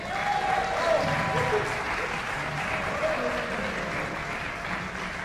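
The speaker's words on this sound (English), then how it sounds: "please, a strong applause for the brass students of the GSU brass area and Dr. Bill Mann" Audience applause for the brass students of the GSU brass area and their trombone professor at the GSU School of Music, steady and full throughout, with a brief voice or two over the clapping.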